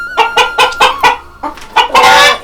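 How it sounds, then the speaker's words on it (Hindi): Kadaknath and other improved-breed hens kept by a rural family cluck loudly and close by, with about five evenly spaced clucks followed by a pause, a couple more, and a longer drawn-out squawk. "ये मुर्गी है, ये मुर्गी हम लिए हैं"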